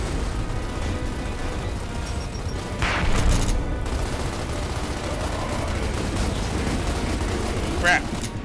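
Gunfire and explosions in the shooter game Gears of War: Ultimate Edition, with a dense, rumbling barrage and a louder blast near the middle under constant battle noise.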